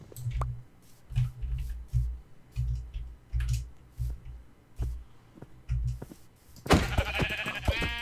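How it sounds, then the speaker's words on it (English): Blocky, repeated low bleats from Minecraft sheep in a survival game, a dozen short rhythmic calls pulsing steadily, then a brighter burst of game noise near the end. "Maybe kill some sheep for wool so I can create a bed."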